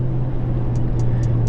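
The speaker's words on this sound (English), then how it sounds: "A twin turbocharged V8 with that exhaust as well." A Lamborghini Urus twin-turbocharged V8 engine and exhaust give a loud, steady, low droning hum, close and unbroken, with no voices.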